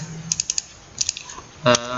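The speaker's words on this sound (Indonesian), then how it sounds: "Kalau kita tadi mengetik di sini travel" Keys on a computer keyboard tapped in quick bursts, several light clicks close to the mic followed by a louder thump, with a voice speaking faintly underneath.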